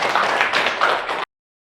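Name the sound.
classroom clapping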